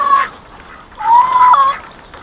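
Chickens in a homestead coop and run give a drawn-out squawk and then a longer wavering call, fairly loud and close, against a quiet outdoor background.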